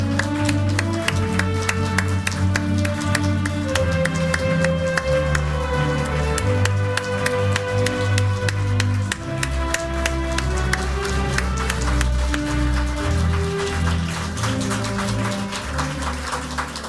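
Steady applause fills a hall at a January 2025 graduation worship service of a Full Gospel theological institute, many hands clapping continuously over sustained organ or keyboard music for the whole stretch.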